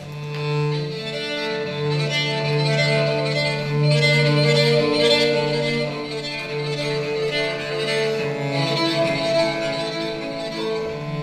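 A bass crumhorn, a soft Renaissance reed instrument, plays a slow, buzzing low melody with sustained notes, heard alone and close.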